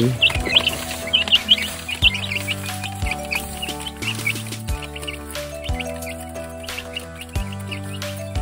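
Native chickens and chicks chirping on a rural farm, a busy chorus of high, rapid peeps close by over a steady low drone, continuous throughout.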